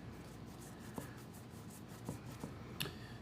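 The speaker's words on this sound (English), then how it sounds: "I'm working and making sure my brush is moving all kinds of different directions." A paintbrush moves across canvas in multiple directions while painting mountains, a quiet soft brushing rub with a few faint taps and scrapes, close and alone.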